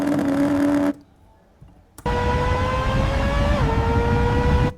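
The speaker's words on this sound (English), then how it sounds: "copy that sound of the F1 race car" A synthetic Formula 1 race car engine sound: a loud, high whining engine note that drops out into near silence for about a second, then returns steady and strong with a brief pitch dip, like a gear change.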